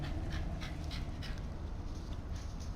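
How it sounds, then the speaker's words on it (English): A pet dog pants excitedly up close, quick steady breaths repeating throughout with a faint whimpering edge, loud and alone without talk. "my dog just came running in all excited"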